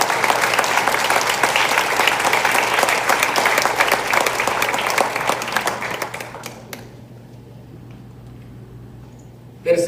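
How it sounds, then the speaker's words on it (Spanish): Loud, dense applause from a church congregation at a Sunday service fills the first six seconds, then fades quickly to quiet room tone. "Si va a aplaudirlo, hágalo fuerte."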